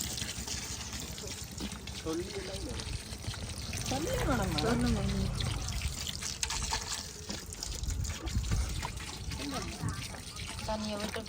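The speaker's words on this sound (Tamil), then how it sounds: "அரிசியை கழுவி ஊற வைக்க போகிறோம்." Water trickles and pours while rice is washed for biryani, a close liquid splashing that swells midway, with people talking over it.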